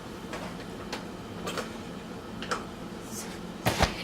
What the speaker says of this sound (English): About to turn on the stove, y'all.